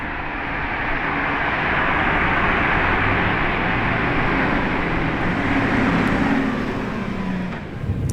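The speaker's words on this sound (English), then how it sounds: "a very fast Revuelto is approaching!" A fast Lamborghini Revuelto approaching, its steady broadband engine and road roar holding loud throughout before easing slightly near the end, with no voices over it.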